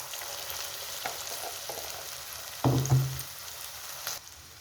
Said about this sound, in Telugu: ఇప్పుడు మొత్తం మిక్స్ అయ్యేలాగా ఆయిల్లో కలుపుకుంటున్నానండి